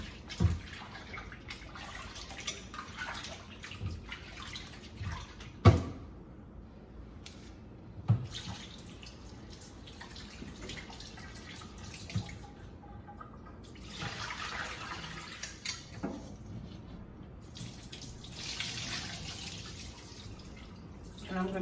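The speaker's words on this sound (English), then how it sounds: "now I'm going to wash the chicken" Raw chicken is washed under running water in a sink, a faint continuous trickle and gush broken by several sharp knocks and clatters of pieces being handled, with quiet speech murmuring in places.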